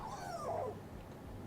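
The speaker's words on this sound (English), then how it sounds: "There's a doggy." Dog in Minecraft giving a short high whimper that slides downward, faint and brief over a quiet low game ambience, alone without talk.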